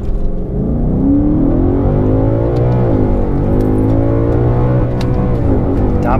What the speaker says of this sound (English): with the traction off, it's just spinning the wheels